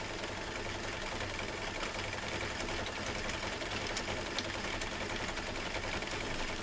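An embroidery machine stitches out a design with a continuous fast mechanical whir and rattle, steady and fairly faint, with no voices.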